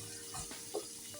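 Pumpkin pieces fry in hot oil in a heated pan, a steady soft sizzle with a spoon stirring and scraping a couple of times, quiet and close.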